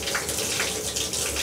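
A tap runs with a steady gushing stream of discolored, coffee-brown water, close and continuous with no pauses.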